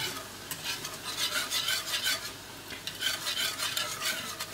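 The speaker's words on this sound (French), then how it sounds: "Et je brasse toujours" Caramel cream boiling in a large saucepan is stirred continuously, producing a close, rhythmic scraping of strokes over a steady low bubbling.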